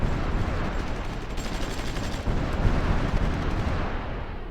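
Artillery fire in the strategy game Supreme Ruler Ultimate forms a continuous, loud rumbling roar of booms and blasts, steady and dense throughout with no distinct gaps.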